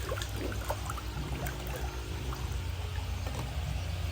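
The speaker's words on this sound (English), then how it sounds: "once the water will reach the hole at the very top, it will continue to drain" Water drains through a bell siphon pipe in a crayfish pond, a steady gurgling pour and trickle that runs continuously at moderate level without speech.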